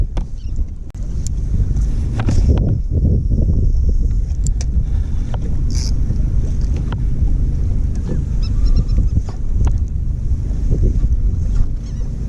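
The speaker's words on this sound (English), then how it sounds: "These birds are all gathered up and it's the right kind of bird." A flock of seabirds working over the water near Galveston, their scattered calls rising over the steady rumble of a boat, wind and lapping waves, with no talking.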